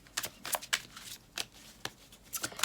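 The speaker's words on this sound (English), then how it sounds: "Let's try to shuffle properly." A deck of tarot cards being shuffled for a pick-a-card reading: quick riffling bursts of crisp card flutter in an uneven rhythm, close and fairly loud, with no talking.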